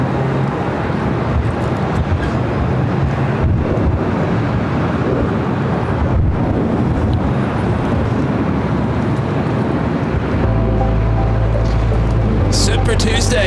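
An airliner comes in to land on runway 24 right at LAX, its jet roar a loud, steady, continuous rumble mixed with wind buffeting on the microphone, nearby and unbroken throughout.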